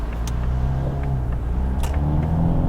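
A Ford Mustang EcoBoost pulls out onto the road, its engine holding a steady, low, close rumble with a slight rise in revs and faint clicks over the top.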